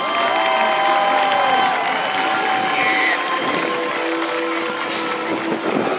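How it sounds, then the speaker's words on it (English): Audience applause for a Hall of Fame inductee at a ceremony, a steady dense wash of clapping and crowd noise lasting throughout, fairly loud and continuous with no clear pauses. "Please give another round of applause for Joseph Washington."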